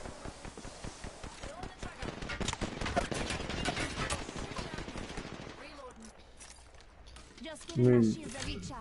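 Rapid gunfire rattles through a video game firefight, with dense bursts of automatic shots for several seconds before easing off. Players talk over the shooting throughout.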